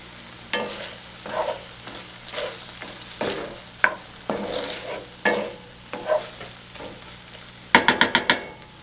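Chopped tomato, green onions and cilantro are stirred into a hot pan, a spatula scraping in separate strokes over a soft sizzle, ending in a quick run of sharp taps.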